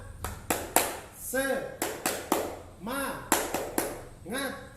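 Rhythmic tepuk semangat spirit clapping led by a teacher, a patterned sequence of sharp claps and taps interleaved with chanted voices.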